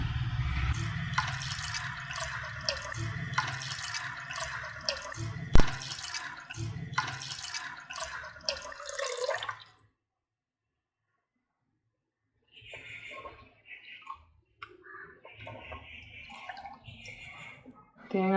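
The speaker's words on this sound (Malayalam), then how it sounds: "അപ്പം നമുക്കിത് ഉരുളിയിലേക്ക് ഒഴിക്കാം." Thick first-press coconut milk poured into an uruli pot for making virgin coconut oil, a continuous splashing liquid stream for about ten seconds, then a pause and scattered clinks and drips.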